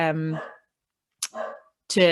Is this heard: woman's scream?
no